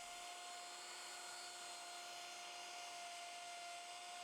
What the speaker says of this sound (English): I use a router to cut some circles